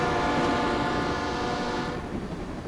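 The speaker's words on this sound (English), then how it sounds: "we take the train from Oslo to Copenhagen" A passenger train rolls from Oslo to Copenhagen with a loud, steady rumble and a sustained tonal hum, heard close from on board, easing slightly near the end.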